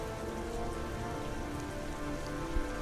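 Heavy rain pours down in the video game Heavy Rain, a dense, even patter of drops hitting surfaces, continuous and moderately quiet with no voices.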